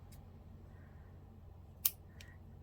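Scissors snip through a crochet yarn tail in a single crisp cut, followed by a second fainter snip, in a quiet room with low background hum.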